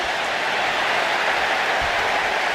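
A large arena crowd in the WWE 2K25 wrestling video game cheers and roars steadily, a loud, continuous wash of noise with no clear breaks, no commentary heard.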